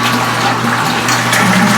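Repaired pump running while water streams into a brew pot: a constant low motor hum beneath a bright, splashing flow of water, loud and close, with no talking.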